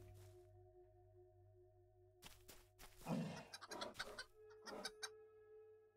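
A small flock of chickens in their run, with scattered clucks and short calls rising in bursts over a steady low background hum, fairly close and moderately loud.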